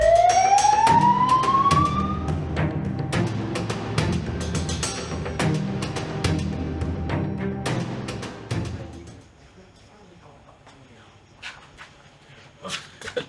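An ambulance siren wails with a rising sweep near the start, then gives way to a busy run of sharp, repeated hits and clatter before the scene fades to quieter sounds.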